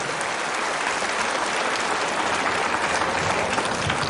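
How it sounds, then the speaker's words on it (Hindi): An audience claps loudly and steadily at a Tribal Pride Day (Janjatiya Gaurav Diwas) event marking the 150th birth anniversary of Birsa Munda, dense continuous applause throughout. "मैं जोरदार तालियों के साथ अपना योगदान देंगे"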